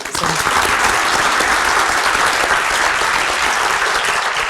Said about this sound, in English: I want a round of applause for all of you